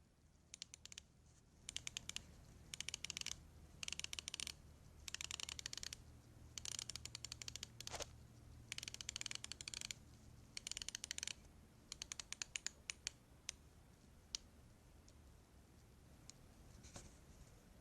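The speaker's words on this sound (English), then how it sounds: "Let's hear what the bezel movement sounds like." Quiet bursts of rapid, fine ratcheting clicks, repeated in short runs with small pauses, as an Orient Kamasu dive watch bezel is turned notch by notch close up.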